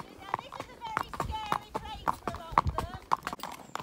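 Horse hooves clip-clopping on a hack ride past a pile of logs, a steady run of sharp hoof strikes at close range under ongoing talk from the rider.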